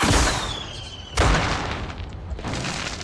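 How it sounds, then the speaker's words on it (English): Fireworks in the Trailmakers video game, two loud bursts a second apart with a whistling streak before, crackling decay after each. "These are fireworks."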